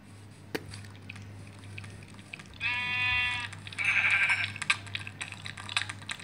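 Sheep bleating in the Minecraft video game: a few short, wavering bleats repeat close and clear over a steady low game hum, with no talking.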